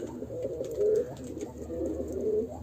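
Black-pearl tumbler play pigeons coo softly in low, rolling bursts, a couple of warbling phrases close by with faint background noise.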